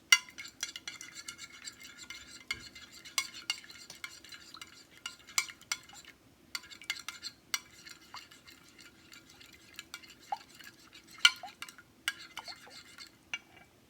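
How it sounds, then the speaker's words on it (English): Eggs whisked in a bowl for a hair mask: quick, rhythmic metallic clicking and swishing of the whisk against the bowl, close and fairly quiet, in bursts with short pauses. "Now you're going to whisk the eggs."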